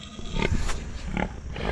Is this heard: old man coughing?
no